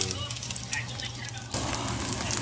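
A strong cooking fire crackles under a pan of chicken pork adobo, giving a dense, close stream of sharp pops and hiss that swells after a brief dip.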